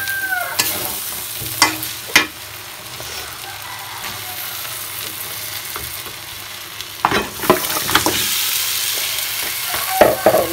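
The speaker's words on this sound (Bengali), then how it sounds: "আমি সুন্দরভাবে ধুয়ে রাখা পায়াগুলো এর ভেতরে দিয়ে দিচ্ছি। তো আমি এটাকে কষাই।" Washed beef trotters go into a pan of spiced, fried masala, giving a continuous close sizzle. Clattering stirs come in bursts near the start and again later.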